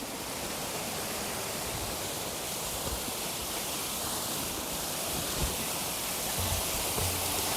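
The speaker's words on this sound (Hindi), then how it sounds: "इसमें एक छोटा सा झरना पहाड़ से निकलकर नीचे की ओर बहता है।" Bhim Ganga, a small waterfall flowing down the mountainside behind Mukhba village near Gangotri, gives a steady, even hiss of falling water. It sounds moderately close and stays constant throughout, with no voices.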